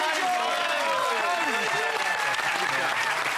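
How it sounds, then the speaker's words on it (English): A studio audience at a political comedy show gives a dense, continuous round of applause, loud and steady throughout, with a voice talking over the clapping. "Please give him a big round of applause"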